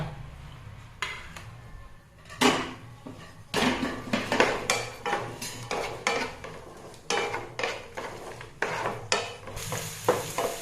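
Chopped shallots and four or five cloves of garlic sauté in a pan, with a low sizzle beneath repeated close clinks and scrapes of a spoon stirring against the metal, in irregular bursts and with no talking.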